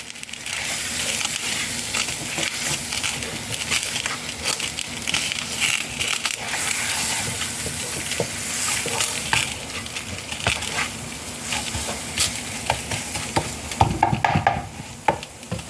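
Flour cooking in melted butter over low heat for a creamy chicken pasta sauce, giving a steady soft sizzle with frequent light scraping and stirring clicks throughout, close and continuous with no talk.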